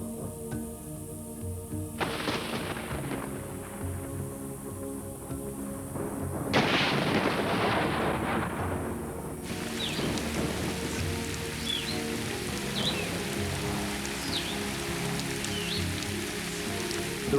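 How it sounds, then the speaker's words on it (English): Heavy rain pours down in a thunderstorm bringing the first downpours of the season. Broad hiss surges in waves, with a loud rumbling burst and dense drumming rain, and birds calling faintly later. "the big thunderstorms, bringing the season's first heavy downpours,"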